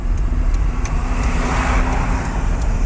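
A big lorry rolls past on the road, its engine and tyres making a loud, steady rumble and roar that hold up close for the whole stretch.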